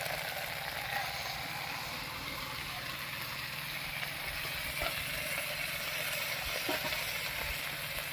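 Fried spice paste with salt, turmeric and ground taro stalk sizzles steadily in hot oil in a pan, a constant close crackling hiss throughout with a few faint clicks and no clear talk.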